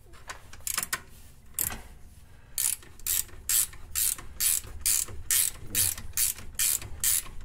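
A ratchet clicks in quick, regular bursts while a bolt is threaded onto a VW Mk5 R32 control arm during a bushing install, loud and close with short gaps between strokes.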